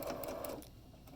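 Close, quiet whir of a sewing machine stitching a drawstring bag, a brief run that fades to a softer hum.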